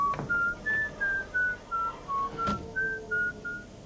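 A lone whistler carries a slow, steady melody of short held notes with brief gaps, clear and close against a quiet background.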